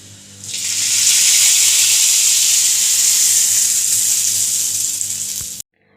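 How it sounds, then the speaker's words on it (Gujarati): Tadka for dal fry, hot oil tempering with red chilli powder added after the gas is switched off, sizzling loudly and steadily for about five seconds before cutting off abruptly, close up with no talking. "અને આપણે દાલ ફ્રાયનો વઘાર કરીશું."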